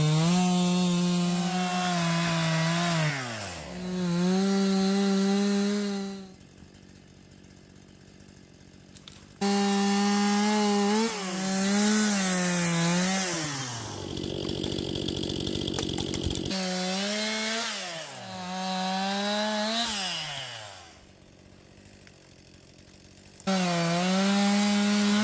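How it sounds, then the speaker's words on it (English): A chainsaw revs up and bites into wood during forest trail maintenance, its engine pitch dropping under load, then idling and revving again in repeated cuts. "This chainsaw has been working great for me."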